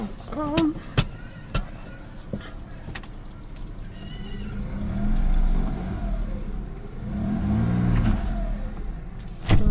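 A Peugeot 406 Coupe V6 with automatic-to-manual conversion idles while raised on a jack, then revs up and down twice in gentle swells, preceded by a few sharp clicks and knocks nearby.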